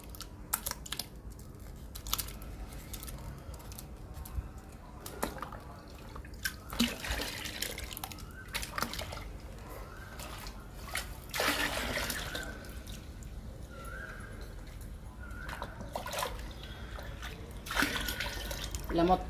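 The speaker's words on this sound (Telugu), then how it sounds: "వేస్తున్నానండి పేస్ట్ని వాటర్లో" Leaf paste of ranapala being stirred into a bucket of about nineteen litres of water makes close, irregular splashing, dripping and sloshing, with soft knocks and clicks scattered throughout.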